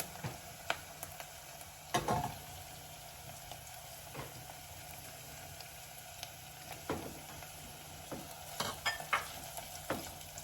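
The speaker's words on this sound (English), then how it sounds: "in goes the garlic" Garlic sizzling in a pan while a stuffed-mussel filling is made, with a steady quiet fry broken by a few louder stirring scrapes and clatters.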